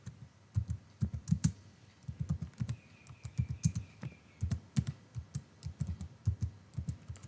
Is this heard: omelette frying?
no